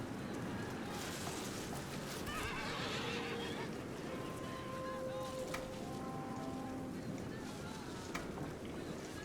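Horses neigh and whinny amid a medieval battle in the Medieval Total War strategy game, several calls rising over a dense, constant din of combat noise.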